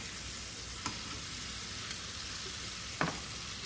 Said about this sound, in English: It has a little sizzling going on.